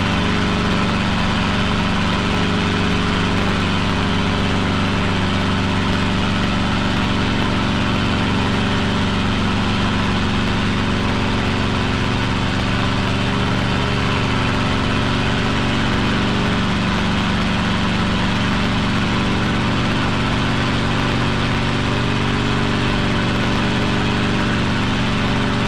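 Training helicopter engine and rotor during a hover taxi toward fuel pumps, a loud, unbroken, droning roar that holds steady throughout and sits very close.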